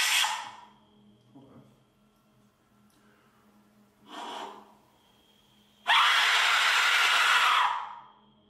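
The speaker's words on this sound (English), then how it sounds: "now it's time for a scream with an Aztec whistle" A shrill, airy, scream-like whistle blasts out loudly for a few seconds, preceded by shorter breathy bursts and quiet pauses.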